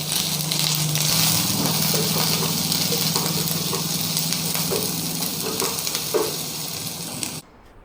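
Half a tomato fries in a hot pan of chilli chicken, a dense continuous sizzle and crackle with a low bubbling undertone, loud and close, cutting off abruptly at the end with no voices.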